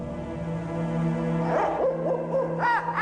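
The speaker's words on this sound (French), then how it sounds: "on peut entendre les oiseaux de nuit chanter leur sinistre chantillon" Night birds calling in darkness, with an owl hooting in sliding, wavering calls that grow more frequent over a layered tonal background.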